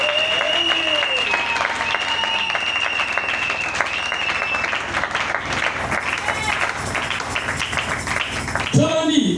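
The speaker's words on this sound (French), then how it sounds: "Acclamez le Seigneur Jésus." A congregation at a church service bursts into sustained applause, a dense, loud wash of clapping from many hands that carries on throughout, with voices and music faintly mixed in beneath.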